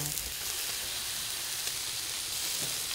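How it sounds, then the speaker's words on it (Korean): Duck meat sizzles steadily over a hot charcoal grill, a dense continuous crackling hiss with no talking. "지글지글 굽는 소리만으로도 먹음직스러운 오리 숯불구이."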